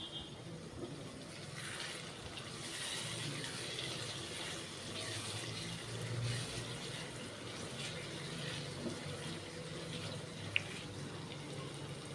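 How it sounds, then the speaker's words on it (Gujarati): A glass of water pours steadily into a pan of spices for several seconds, a continuous close splashing rush with no voices. "હવે આમાં એક ગ્લાસ પાણી ઉમેરીશું"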